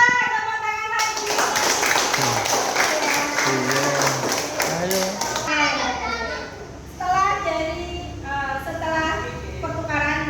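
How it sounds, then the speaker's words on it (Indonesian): Children in a primary school classroom break into a burst of hand clapping, lively and close, followed by kids' chanting voices and a teacher talking. "tepuk tangan lagi"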